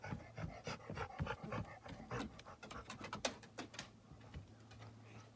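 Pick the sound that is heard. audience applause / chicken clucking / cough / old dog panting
old dog panting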